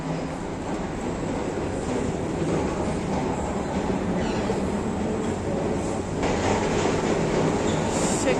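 An airport express train to Guarulhos at Palmeiras-Barra Funda station in São Paulo gives a steady, loud rail rumble with clattering wagon noise that runs unbroken throughout, with no talk.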